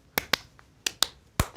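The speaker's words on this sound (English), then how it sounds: "Now I want you to clap twice." Two pairs of sharp hand claps, each pair quick and close together, with a third pair at the end, as a tissue is tossed up and caught; crisp, near, separated by short silences.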